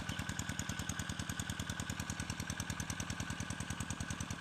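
Engine-driven water pump drawing water up from a canal into a holding pond beside a dry rice field, a close, loud single-cylinder chug with a steady rapid knocking rhythm running throughout, no voices.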